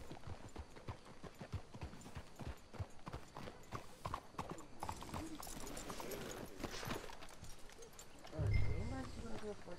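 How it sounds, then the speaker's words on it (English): Horses' hooves clip-clopping at a walk in Red Dead Redemption 2, a quiet, steady rhythm under people talking, with a louder thump near the end. "Let's hitch the horses up ahead."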